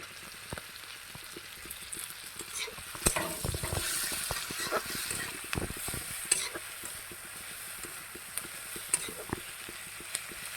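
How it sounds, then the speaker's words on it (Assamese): Garlic and onions fry in oil in a pan over a moderate flame with a soft, steady sizzle. Irregular clicks and scrapes of stirring are scattered throughout, with a busier patch early on. "পিঁয়াজখিনি ৰঙা হোৱাকৈ মই ভাজিম।"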